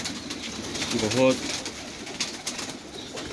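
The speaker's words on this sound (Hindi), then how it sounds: "ये एक कबूतर है" A pigeon coos once at a pigeon keeper's home, a short low throaty call near the middle, with someone talking around it and outdoor background noise.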